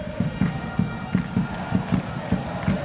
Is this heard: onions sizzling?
no